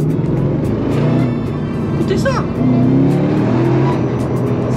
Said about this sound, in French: On va un peu ouvrir la fenêtre pour vous faire écouter le moteur.